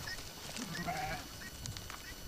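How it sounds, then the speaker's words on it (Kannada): A dry sheep being handled for deworming gives a short, moderately faint bleat over steady background noise, with no talk. "ನೋಡಿ ಸ್ನೇಹಿತರೆ ಇದು ಒಣ ಕುರಿ"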